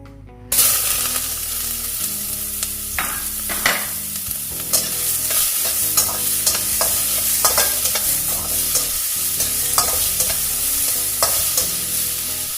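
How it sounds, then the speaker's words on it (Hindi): Finely chopped large onion fries in a few drops of oil in a cooking pan, bursting into a steady sizzle, with repeated spoon scrapes and taps throughout, close and clear, no talk. "मैं यहाँ पे कुकिंग पैन में ले रही हूँ बिल्कुल थोड़ा सा oil, few drops of oil, और इसमें डाल रही हूँ मैं एक बड़े साइज़ का प्याज"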